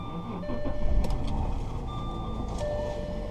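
1996 Jaguar XJ6 Vanden Plas starting up, heard close as a low engine rumble rising to a steady idle, with faint electronic chimes over it and no talking.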